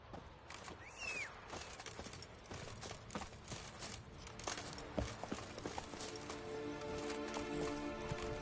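Roach, the horse in The Witcher 3, galloping, with rapid hoofbeats drumming steadily under swelling game music and ambient wind, moderately loud throughout.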